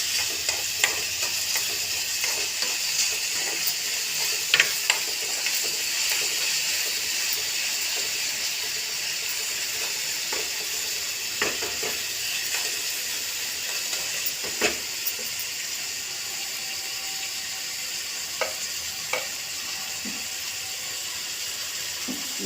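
Onion, tomato and salt frying in a pan while being stirred, a continuous sizzle with frequent scraping and clinking of a spoon against the pan throughout.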